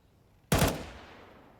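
A single sharp burst of gunfire in the video game Counter-Strike, a near, loud crack that rings out and decays over about a second against quiet background.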